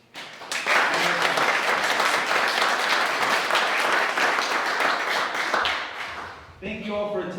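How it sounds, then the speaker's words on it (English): Audience applause for award winners at a community event, a burst of many hands clapping close and loud for several seconds, fading out before a voice speaks at the end. "So one more applause for all of the award winners today."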